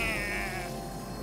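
A cartoon sheep gives one short, wavering bleat up close, fading into a brief held tone with no talking.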